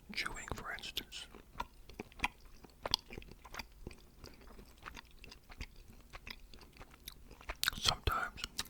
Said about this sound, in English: the sound of my own chewing,